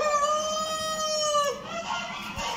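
A hen at a national poultry exhibition lets out a drawn-out, clear cackling call, then it breaks off into faint hall background noise.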